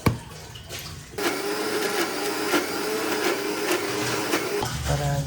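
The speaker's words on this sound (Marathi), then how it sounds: "आता याच्यात थोडंसं पाणी घालायचं सगळी वाटी आणि मिक्सरमधून फिरवून घ्यायचं" A mixer grinder blends green chilli chutney with a little added water. After a short pause it whirs up to a loud, steady, close-up grinding roar.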